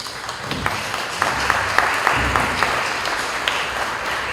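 An audience gives a sustained burst of applause for the director presiding over a Peruvian cultural event about Inti Raymi, a steady wash of many hands clapping at moderate distance with scattered sharper claps throughout.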